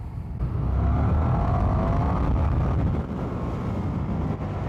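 2023 Indian FTR 1200 S scrambler motorcycle accelerating in sport mode, a steady low engine drone with heavy wind rush over the microphone, loud and continuous from the rider's position with no talking.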